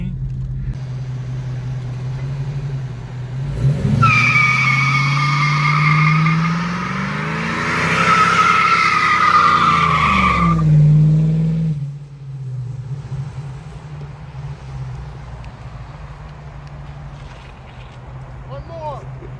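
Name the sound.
car burnout tire squeal, 1992 Ford Mustang GT 5.0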